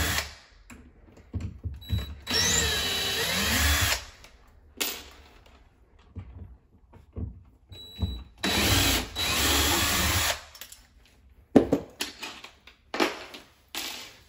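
A power drill backing screws out of a door's bottom hinge, several whirring bursts of a few seconds each separated by quiet pauses, close and loud with small clicks between runs.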